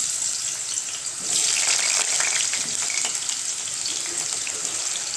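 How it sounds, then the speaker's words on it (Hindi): Large pieces of three small potatoes fry in about half a cup of oil in a pan, giving a steady close sizzle that swells slightly after the first second and holds, with no talking. "ये छोटी साइज के 3 आलू लिए हैं, इन्हें हम फ्राई कर लेंगे।"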